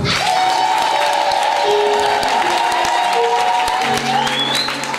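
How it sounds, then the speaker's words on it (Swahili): Church congregation clapping at a worship service, a dense, steady wash of applause running the full length alongside sustained keyboard or organ tones. "Pigeni makofi mwingi."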